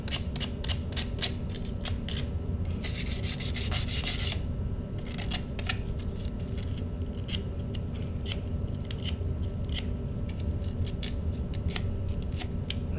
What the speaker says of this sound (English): The sandpaper doesn't have blades on it, so it's just sand, so you can rub back and forth.